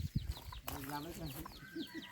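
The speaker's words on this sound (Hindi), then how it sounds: "देसी मुर्गी दिखाते, रुको।" Desi chickens on a forest village farm cluck and scatter nearby, several short clucks and squawks mixed with a person talking over them.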